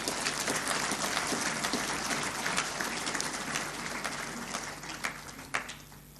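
A crowd at a speech by Prime Minister Modi about Sikkim in January 2016 breaks into sustained applause, a steady dense wash of clapping that slowly thins out toward the end.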